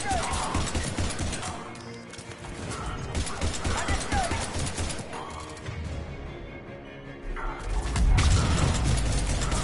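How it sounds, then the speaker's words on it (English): A loud explosion in the video game Mass Effect 3 erupts near the end with a deep low rumble, following a busy stretch of gunfire, clanks and combat noise throughout. "bad explosion"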